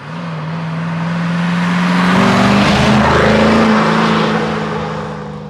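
A Chevrolet Camaro SS V8 is driven hard in hillclimb mode while burning its tires. Its loud, throaty engine roar swells over a couple of seconds, holds at a peak, then gradually fades, with no talking.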